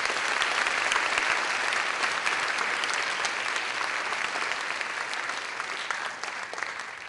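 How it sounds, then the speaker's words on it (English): Audience applause at a high school graduation ceremony: loud, dense, sustained clapping from a large crowd that continues evenly for several seconds before easing slightly near the end. "So please join me in giving them a big round of applause."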